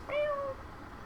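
A single short cat meow from Final Fantasy 7 Remake, clear and fairly close, rising then falling, with a quiet game background after it.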